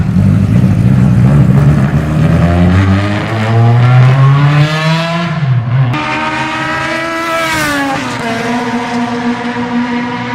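A BMW M3 E30 Evolution 2 with its 217-horsepower inline-4 racing engine in Need for Speed revs loudly, pitch climbing through the gears with a shift break midway, then winding up again, no voices.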